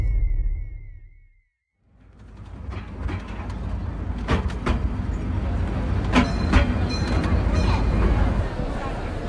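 A train pulls into a station in a busy scene: after a brief hush, a steady rumbling rail noise builds with clattering wagon knocks and metallic clanks, fairly loud and continuous, with crowd murmur mixed in.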